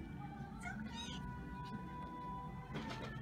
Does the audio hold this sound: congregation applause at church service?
no